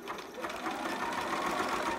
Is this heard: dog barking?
no